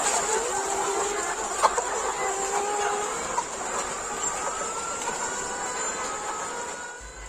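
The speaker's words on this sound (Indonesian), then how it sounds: "Hadirnya sebuah peternakan ayam petelur" Hens cluck and chatter in a continuous, busy chorus inside a laying-hen chicken farm, with occasional louder squawks rising out of the steady din and no talking.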